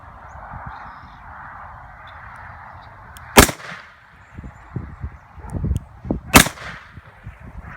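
Two sharp, loud 9mm pistol shots crack about three seconds apart, fired with Alliant Power Pistol and Speer TMJ 147-grain reloads, each followed by a brief echo over a steady background hum.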